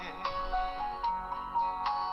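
A Korean phone ringback tone plays while a call connects, a melodic tune of sustained tones with soft rhythmic accents, heard clearly and alone.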